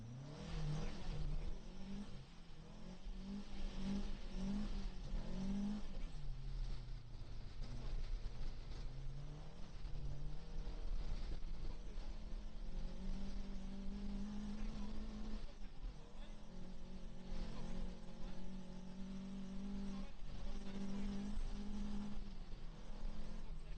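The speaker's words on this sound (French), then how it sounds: "qui maîtrise depuis longtemps l'art et la manière de balancer son Opel Ascona dans tous les sens, la preuve" An Opel Ascona rally car at a rally sprint engine revs hard and rises and falls in pitch as it slides sideways, loud and sustained over about twenty seconds, with a commentator talking over it.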